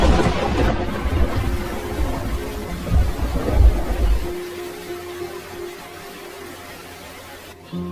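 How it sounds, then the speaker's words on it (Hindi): A cartoon-style storm effect of heavy rain with deep thunder rumbling loudly at first, then easing to a steadier, quieter downpour. "अचानक से मौसम खराब और तेज बारिश होने लगती है।"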